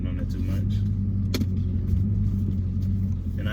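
A 2016 Dodge Challenger Hellcat with a mid muffler delete idles with a deep, steady exhaust rumble, heard from close by and holding constant for the whole stretch.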